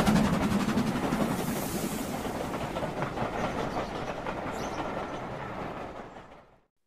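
Train passing by with steady clickety-clack of wheels on rails and a rumbling wagon roll, loud and continuous before fading out near the end.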